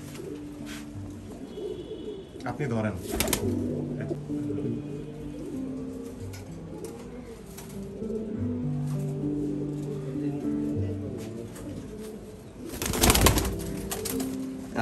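Several Giribaj pigeons coo in overlapping low, throaty phrases throughout a loft, with brief voices speaking nearby, a sharp clatter near the start and a louder burst of rustling or wing flaps toward the end.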